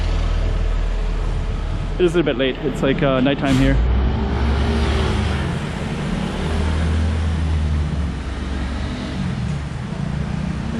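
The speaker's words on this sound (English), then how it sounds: "here's our public buses that go by" Public buses pass along a street in Macau at night, a steady low vehicle rumble running under a man and woman chatting near the microphone, with broad traffic noise filling the whole scene.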